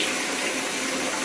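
Water gushes steadily from a tap in a strong, continuous, close-up hiss and splash, loud and unbroken, with no voices.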